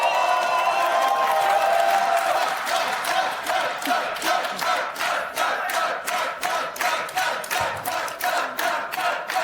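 A large esports arena crowd of G2 fans roars and cheers at the LEC finals, with rhythmic chanting and clapping bursts building into a steady, loud pulsing cheer.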